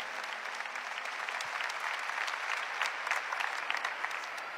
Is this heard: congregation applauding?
yes